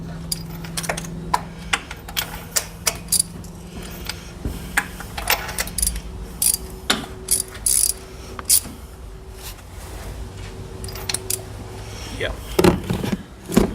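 A ratcheting torque wrench tightens spark plugs on a Ford Modular 2V engine during a tune-up. Close, quick bursts of clicks come in short runs with pauses between them, and people talk in the background.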